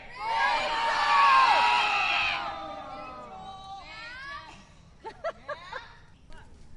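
A camp crowd of children and adults yells together in one loud, sustained shout as a campfire is lit, then the noise fades into scattered whoops, laughter and short sharp shouts.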